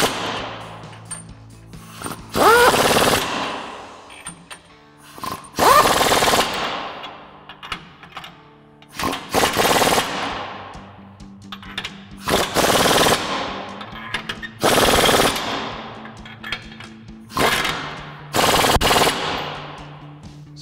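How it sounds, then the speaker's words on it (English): Impact wrench with a 22mm socket tightening U-bolt nuts on a Toyota Tacoma's lift kit, about seven loud rattling hammering bursts, each a second or so long, separated by short pauses. "grab our 22mm socket on our impact and tighten these down"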